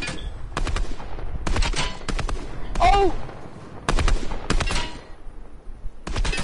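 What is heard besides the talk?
gunshots in a video game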